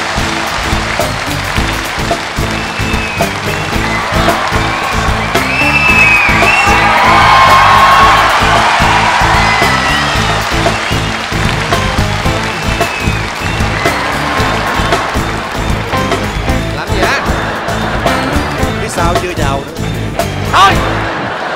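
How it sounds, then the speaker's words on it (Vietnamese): A large audience at a Vietnamese variety show in Chicago welcomes the female MC on stage with loud, sustained applause, whoops and cheering that fill the whole stretch, with the din swelling midway and staying strong. "Một lần nữa mời quý vị một tràng pháo tay"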